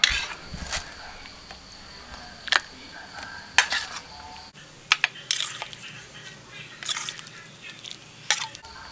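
Spoon and ladle clinks against a pot and bowl as cooked Thai egg soup with chinchu chai greens is served, scattered sharp taps and scrapes, fairly faint and close.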